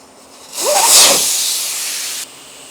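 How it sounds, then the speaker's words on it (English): A sharp burst of air hisses out of a tyre on a tyre machine, loud and close, peaking quickly and then holding as a steady rush before cutting off abruptly after about two seconds. "We'll drop some air out of this tyre and we'll pop the bead"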